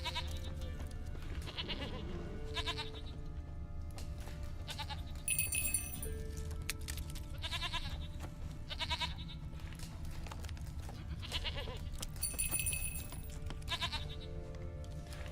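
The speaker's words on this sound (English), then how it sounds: "We need to find the Peller's Goat" Goat bleating in The Witcher 3 video game, several repeated bleats spaced across the span over a low game ambience, with faint bell-like clinks in places.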